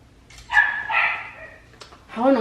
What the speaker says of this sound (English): how annoying is that dog, you guys?